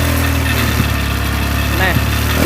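A motorcycle engine is held at full throttle, giving a loud, steady, close-up roar through most of the stretch with brief surges in pitch.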